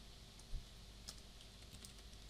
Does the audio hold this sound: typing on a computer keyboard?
yes